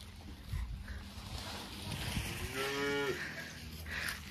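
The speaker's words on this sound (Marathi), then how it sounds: "हे आपण खायला टाकलं आता बैलांना, हे बघू शकता" An ox eating maize fodder after work lets out a single low moo midway, moderately close, amid soft rustling and outdoor background noise.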